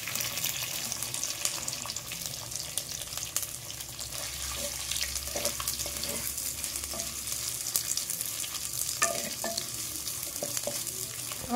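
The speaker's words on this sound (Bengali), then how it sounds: "আমার পেঁয়াজটা লাল করে আমি ভেজে নিয়েছি।" Sliced onions fry in a clay kadai for a malai chicken made with country chicken, giving a steady, close sizzle with occasional scraping and stirring clicks and no talking.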